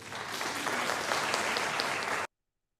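An audience claps continuously in a dense, steady burst that cuts off abruptly near the end.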